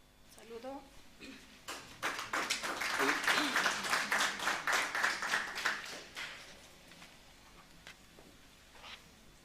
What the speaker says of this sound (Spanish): Vamos a recibir, por favor, con fuertes aplausos.